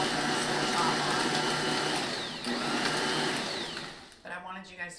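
An electric mixer whirs steadily through chopped apples for an apple cake, then winds down and stops, after which a voice starts talking.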